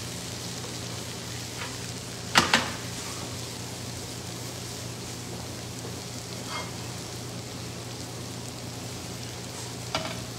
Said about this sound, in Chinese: 我就直接切了3颗下来炒